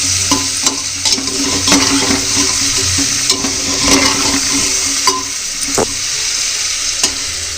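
Peas and a little fried mixture sizzle and crackle loudly in a pan over a wood-fired clay stove. A spoon scrapes and stirs them in repeated sharp clinks over a continuous hiss.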